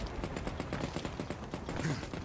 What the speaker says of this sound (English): That's people shooting, like, in that lake area.